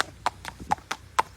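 Hooves of a large horse being ridden clip-clop in a steady, evenly spaced rhythm of sharp knocks, loud and close, with no talk over them.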